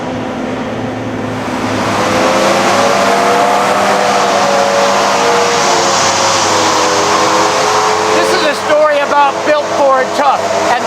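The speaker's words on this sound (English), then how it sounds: "that's what 650 foot-pounds of torque sounds like." A 2007–2008 Ford F-Series Super Duty pickup engine revs up loudly and holds a rising, sustained roar near the listener, with the pitch sweeping upward and some unsteadiness toward the end.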